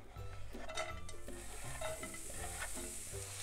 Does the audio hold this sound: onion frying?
yes